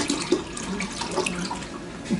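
Tap water pours steadily into a cooking pot, a continuous splashing gush at close range with small shifting tones as the pot fills, and no talk.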